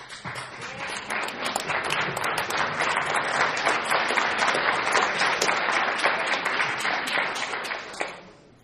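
Audience applause at an AA speaker meeting, dense sustained clapping from a large crowd in a hall, steady and full for about eight seconds before cutting off sharply.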